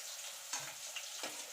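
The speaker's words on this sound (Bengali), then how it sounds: "রসুনটা দেখুন ভাজা ভাজা হয়ে গেছে।" Garlic frying in hot oil for a Bengali cauliflower mash, a soft steady sizzle with a couple of brief stirring scrapes, close and fairly quiet, no talking.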